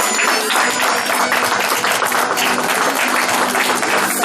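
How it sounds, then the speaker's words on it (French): Applause from an audience at a tribute or retirement gathering, a dense, loud, even burst of many people clapping that carries on without a break for the whole stretch. "Et les applaudissements"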